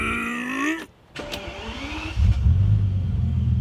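A Bentley Continental GT engine cranks and fires, a brief starter whirr then a loud, rough catch before settling into a steady, close idle drone with no talking.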